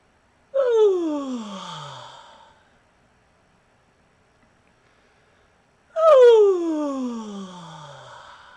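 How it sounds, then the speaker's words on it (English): Two long voiced yawns made as a voice-training exercise, each a loud onset sliding down in pitch and tapering off over about two seconds, separated by silence. "Make it like your natural yawn."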